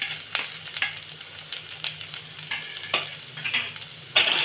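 Chopped garlic and ginger are stirred lightly in hot oil, giving a soft sizzle broken by repeated scraping strokes of a spoon against the pan, with a sharper scrape near the end.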